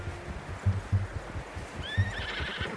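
A horse in the video game Red Dead Redemption lets out a clear whinny partway through, over a steady rhythm of hoof clip-clops on the ground.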